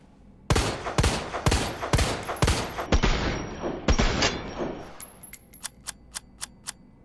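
Handgun test-fired in Resident Evil 2 Remake, a run of loud, closely spaced shots for several seconds, then a pause and a series of sharper, lighter clicks or shots evenly spaced toward the end.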